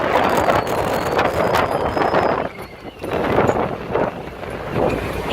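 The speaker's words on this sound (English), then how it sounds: "It's windy and rainy and nasty and all kinds of stuff." Gusty wind roars and buffets against the microphone aboard a Skipper 20 sailboat in the Florida Keys, with a dip in the middle, while rain and water noise wash steadily underneath.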